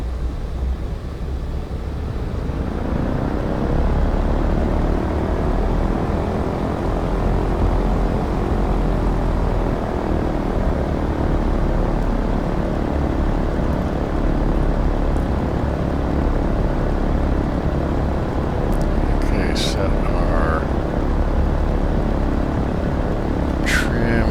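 Douglas DC-3 propeller airliner in X-Plane 12 taking off, a loud, steady radial-engine drone and propeller roar that builds slightly as it rolls, with faint cockpit clicks near the end.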